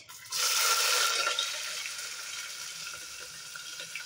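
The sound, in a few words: onion and spices frying in oil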